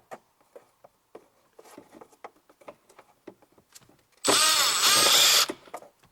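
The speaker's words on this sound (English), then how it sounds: "We have two screws on this side." Screws come out of the dashboard of a 2000-2011 Volvo V70, S60 or S80: faint scattered clicks and taps of handling, then a loud, close power-driver whir lasting just over a second.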